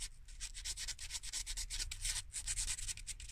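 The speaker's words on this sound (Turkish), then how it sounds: "Onları da zımparayla alacağım." Rapid, rhythmic scratchy rubbing of sandpaper against a spark plug, close and continuous with quick back-and-forth strokes.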